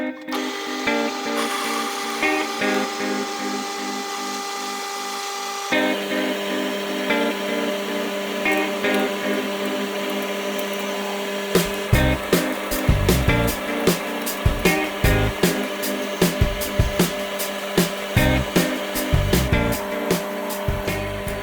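A drill bores a hole in a metal bar on a lathe: a steady machine whine that changes pitch partway through, then a run of sharp, regular clicks and knocks, with no talking.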